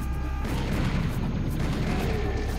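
Gunfire from the Serious Sam 2nd Encounter video game, heard as a dense run of booming, heavy shots with loud explosive bursts and no talk over them.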